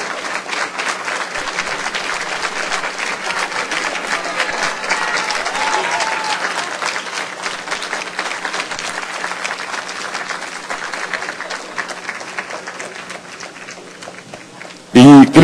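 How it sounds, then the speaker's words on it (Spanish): Sustained loud applause from an audience at a short-story awards ceremony, the 25th edition of a thousand-word story contest, dense clapping that slowly thins over about fifteen seconds before a voice cuts in at the end. "Fuerte el aplauso para el ganador de esta 25ª edición del cuento de las mil palabras"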